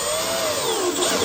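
Power drill driving screws into an MDF board for a model railway layout, a steady close whirring drone for just over a second, heard alone.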